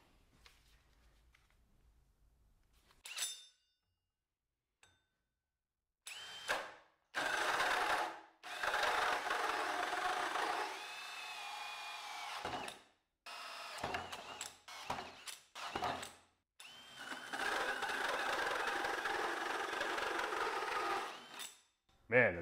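A budget hammer drill bores through material with a Milwaukee hole saw, giving loud, grinding bursts of cutting broken by short pauses as the tool stops and restarts.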